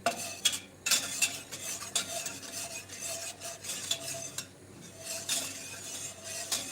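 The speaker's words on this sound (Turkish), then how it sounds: "Ben gördüğünüz gibi tuğbanın korkusundan sadece karıştırıyorum." A spoon stirs food in a pot, with repeated scraping and clinking strokes in an uneven rhythm at moderate, fairly quiet level, and no talk.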